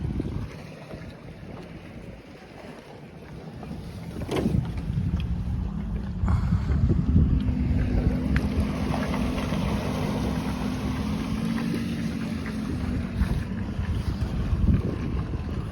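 Strong wind buffets the microphone over open water on Fontenelle Reservoir while trolling from a boat. A low engine drone and choppy waves slap beneath it, and the gusts swell midway and stay rough.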